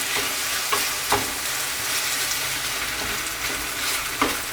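Udon noodles, shrimp and sauce stir-frying in a hot pan, a steady close sizzle broken by a few sharp scrapes and clacks of stirring, with no talk.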